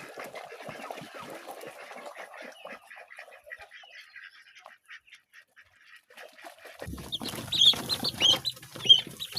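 Five-day-old Indian Runner ducklings peep in a group, faint and scattered at first, then a louder burst of high, close chirping toward the end.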